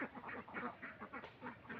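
Grown ducks at a duck farm quack in quick repeated bursts, a busy overlapping chorus of several birds close by.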